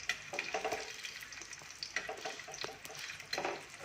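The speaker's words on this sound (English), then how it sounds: "So back to the frying pan now." Chicken patties fry in a frying pan, giving a soft, steady sizzle with scattered crackles and pops, fairly quiet and without any talking.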